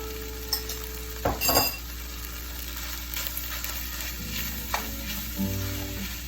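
Kimchi sizzles steadily in a hot frying pan for Korean fried rice, with a few louder scraping stirs and clinks of a utensil against the pan over a constant frying hiss.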